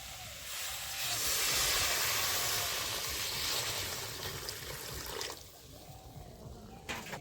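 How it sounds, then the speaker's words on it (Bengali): Water poured into a hot pan of fried spiced vegetables for a fish curry with spinach, potato and eggplant bursts into a loud hissing sizzle, then settles into quieter bubbling with a clink near the end. "মশলা সবজি ভেজে নিয়েছি, এখন পরিমাণ মতো জল দিয়ে দিচ্ছি।"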